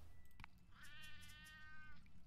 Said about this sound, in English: You can go feed the cat here in a second.